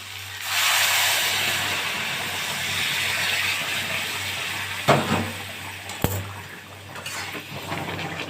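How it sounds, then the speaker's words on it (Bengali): Hot water goes into a pan of braised desi chicken for a Bengali-style jhol, a long hissing rush that settles into a softer bubbling simmer, broken by a couple of sharp clinks of a utensil against the pan. "আমি সেই গরম জলটা দিয়ে দেবো।"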